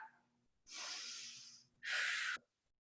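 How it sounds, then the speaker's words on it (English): Two slow, deep breaths during a yoga side angle pose, a long hissing inhale followed by a shorter, stronger exhale, close and alone with no talking. "Full breath."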